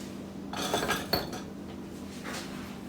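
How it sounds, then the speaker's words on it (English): A utensil stirs cocoa into chocolate pound cake batter in a bowl, making a few close scraping and clinking strokes with one sharper tap of metal against the bowl. The strokes sit over a steady background hum and no one speaks. "Now that needs to be stirred up just a little bit and kind of mixed"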